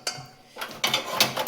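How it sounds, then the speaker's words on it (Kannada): A metal cooking pot set onto a kitchen stove for making hariyali veg pulao: a few sharp clanks and scrapes of metal on the burner grate, close and fairly quiet, no talk. "ನಾನು ನಮ್ಮ ಪಾತ್ರೆನ ಇದ್ರ ಮೇಲೆ ಇಡ್ತೀನಿ."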